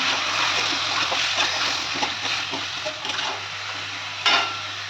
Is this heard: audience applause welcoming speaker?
no